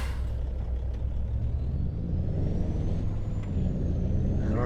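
Vehicles pass in a steady stream of rush hour traffic in Farming Simulator 25, with a rumbling low drone of engines and a faint rising whine, heard alone without talk.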